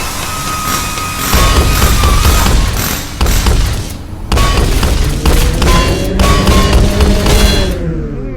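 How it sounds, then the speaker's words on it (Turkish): A car in a driving video game slams hard onto the ground with heavy booming impacts and crunching thuds, loud and close, followed by a rising engine roar. "Arkadaşlar fena bir şekilde yere vuruştu araba."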